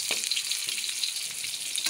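Fried tofu sizzling in hot oil in a pan, a steady bright crackle with scattered small pops and no voices.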